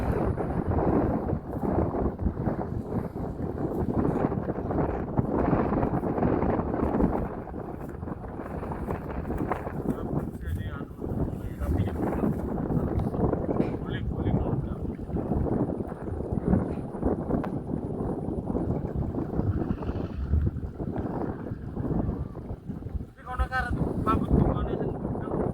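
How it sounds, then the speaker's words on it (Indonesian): Strong wind blowing and buffeting outdoors, a loud rumbling roar that persists throughout, with people talking over it. "Angin, Bro."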